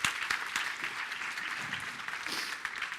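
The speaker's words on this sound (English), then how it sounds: "Can we have a round of applause for Vishnu and Daisy, please?" An audience claps steadily at a data science festival talk, a brief even burst of applause that fills the room without pause.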